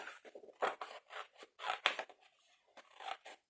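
Scissors snip through cardboard along a marked fold line for a desk organiser, giving a series of crisp, close cutting crunches in an irregular rhythm with short pauses between strokes.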